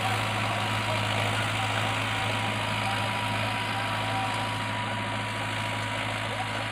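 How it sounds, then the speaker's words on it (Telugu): A tractor engine levelling a farm field runs at a steady low drone with a constant hum and vibration, holding an even, fairly faint level throughout. "ట్రాక్టర్ తోటి లెవెల్ చేపిస్తున్నాం ఫ్రెండ్స్"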